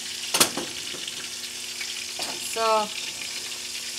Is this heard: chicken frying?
yes